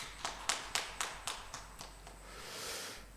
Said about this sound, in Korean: 우리 수고하셨는데 박수 한번 하시겠습니다.